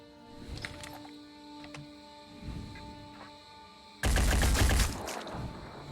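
Gunfire in the tactical game Phoenix Point: a faint scattering of small shots over a humming background, then one loud, dense volley lasting about a second before fading.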